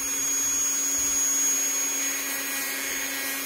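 A brand new Dremel rotary tool whines at high speed while trimming a polymer clay pendant, a steady, close, continuous high-pitched motor drone with no pauses.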